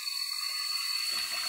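Water gushes and hisses out of a hose in a forest as the flow picks up strength, a steady close rushing stream with no voices over it.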